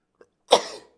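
A single sharp, close sneeze bursts out after a tiny intake of breath, loud and brief in an otherwise quiet moment.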